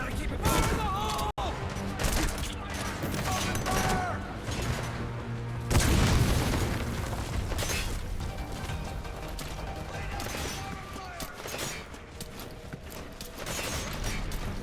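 Grenade explosion in Metal Gear Solid V: a loud boom bursts out midway through dense game action, with gunfire-like cracks and mechanical clatter around it and someone talking over the mix.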